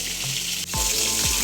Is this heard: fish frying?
yes